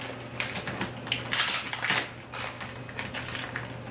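A plastic-wrapped pack of stickers from Michaels is torn open by hand, giving bursts of crinkling and ripping at close range that swell and fade over a few seconds.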